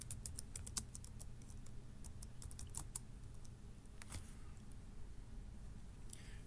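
Quiet, steady run of computer keyboard keystrokes as a password is typed for a university sign-on, clustered taps with brief pauses, soft and close over a low background hum.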